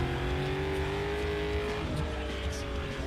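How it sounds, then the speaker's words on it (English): A car accelerating in Need For Speed Underground 2, its engine holding a loud, steady drone with rising harmonic tones throughout, close and continuous. "Oh my god, the acceleration is so bad."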